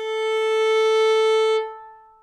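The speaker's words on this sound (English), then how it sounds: "You can also bow with your bow here," A violin string bowed with a horsehair bow sounds one steady sustained note for about a second and a half, close and clear, then rings away into the room with no talk.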